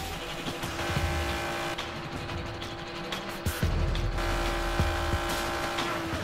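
A race car engine run on track during a Motul 300V oil test drones steadily with a sustained pitch, swelling slightly as it accelerates, heard from onboard with no talk.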